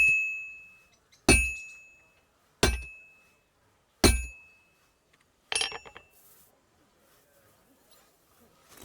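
Forging in Legacy of the Forge rings out as four bright, evenly spaced metallic clinks, each decaying cleanly, followed by a harsher fifth strike and quiet rustling.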